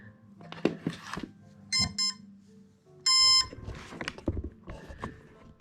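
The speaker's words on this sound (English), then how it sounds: "So I'll power it up and you'll probably hear the ESC." Brushless motor ESC sounding its power-up tones, two short clusters of bright electronic beeps followed by a longer steady tone, close and clear, with handling noises and a voice talking around them.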